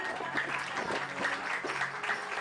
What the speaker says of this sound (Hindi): तो इनके लिए जोरदार तालियां।